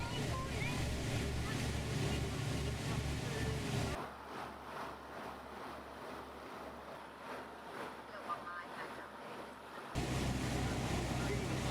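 A small tender boat's engine drones steadily over Aegean Sea wash and gusting wind noise on the microphone, with a pulsing low hum that shifts partway through.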